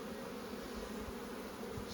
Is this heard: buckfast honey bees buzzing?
yes